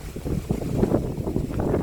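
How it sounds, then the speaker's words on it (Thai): Strong wind gusts buffet the microphone in a low, rumbling roar that swells and fades unevenly throughout, loud and close with no clear voice over it. "ลมพัดลมแรงนะครับ"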